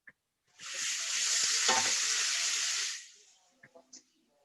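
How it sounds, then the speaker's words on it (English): Lima beans hit a hot pan with onion and garlic and sizzle loudly for about two seconds of steady hissing frying, then fade as a few stirring clicks and taps follow close by. "so you get a good saute on that"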